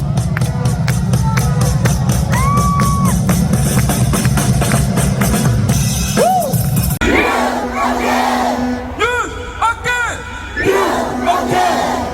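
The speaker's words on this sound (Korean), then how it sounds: "박수!" A large crowd at a street political rally outside Gyodae Station in Seoul chants and cheers loudly, with sustained roaring voices and shouts, followed by rhythmic clapping and whistle-like calls from the dense gathering.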